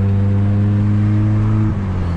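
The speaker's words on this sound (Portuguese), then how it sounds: "Eu gosto de escutar o barulho do motor" A car engine fitted with a sports exhaust drones steadily from inside the cabin, a loud, deep rumble with a smooth tone that dips briefly near the end as it shifts.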